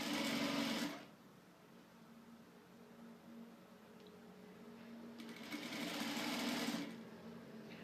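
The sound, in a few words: sewing machine stitching fabric for a baby crib sheet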